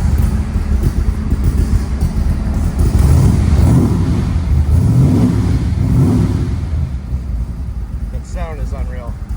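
A 1965 Shelby Cobra 427 by Superformance, rated at 585 horsepower, rumbles and revs loudly and close by in a steady, throaty roar, with someone talking over it throughout.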